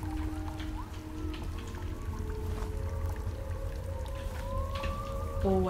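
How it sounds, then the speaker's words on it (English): Steady rain patters in the video game Choo Choo Charles over a low continuous rumble, with faint tonal hums drifting in the background and a brief rise in sound at the end. "Oh, I feel like it's raining."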